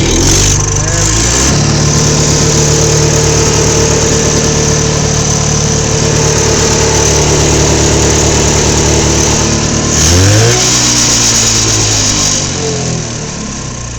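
A Polaris Galaxy snowmobile engine cold-starts with the choke on, running loud and close with a steady buzzing idle, then a rev shift and a brief surge near the end.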